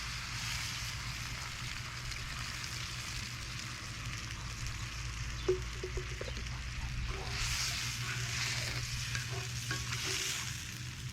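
Chicken broth goes into a pan of onions and celery sautéing over an open fire, with steady sizzling and frying, a few stirring clinks, and a brief louder hiss near the end.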